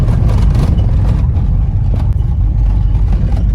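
A car driving on a road toward a farmstead, continuous loud low engine and tyre rumble with road noise throughout, no talk.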